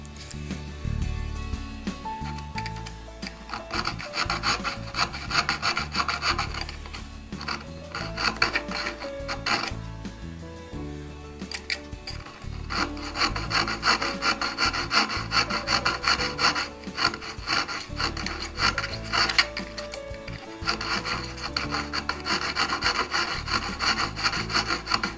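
An auger's cutting edge is sharpened with a file: steady, continuous rasping and scraping strokes fill the whole stretch at an even, moderately loud level, with no talking.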